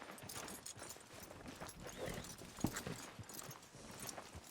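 In the Red Dead Redemption 2 video game, a horse's hooves clop at a quick, irregular pace, quiet and mixed into a busy ambient background.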